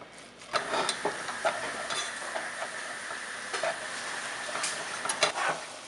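Minced pork stir-fries in a pan for Cambodian laap, a soft continuous sizzle broken by repeated scraping and clinking strokes of a utensil, close and moderately quiet with no talking.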